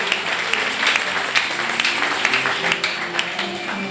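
A church congregation applauds during a French-language worship service, with sustained dense clapping at close range and a few louder individual claps standing out, and no clear voice on top.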